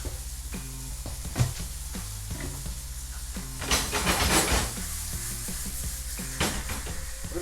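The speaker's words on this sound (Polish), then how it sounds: "nam się fajnie smaży." Butter and garlic frying in a pan for a zucchini and fish dish, a steady close sizzle with a louder, busier burst of spitting midway and light clinks of utensils.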